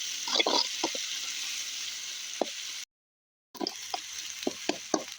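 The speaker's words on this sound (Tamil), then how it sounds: "தக்காளி நல்லா வதங்கிக்கினே இருக்கட்டும்" Tomatoes sauté in a pan for mutton thokku with a soft, steady frying hiss, punctuated by intermittent stirring scrapes and taps. The sound drops out briefly midway, then resumes.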